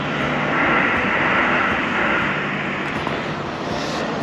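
A drone lifting off beside abandoned luxury cars in Japan, its steady loud whirring roar rising and holding for a few seconds, close by, with no talk.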